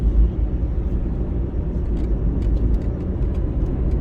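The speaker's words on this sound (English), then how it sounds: "So a lot of traffic there." A car drives in heavy traffic over the new Three Mile flyover in Kingston, Jamaica, giving a loud, steady road and engine rumble with no one talking.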